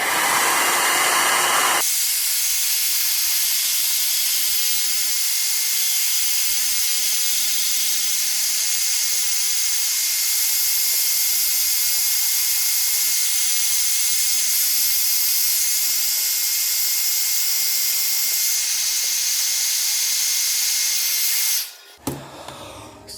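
A hair dryer blows with a loud, constant whooshing roar for a long stretch, close by, then cuts off abruptly near the end.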